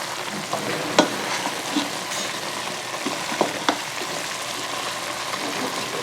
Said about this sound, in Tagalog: And just mix it again.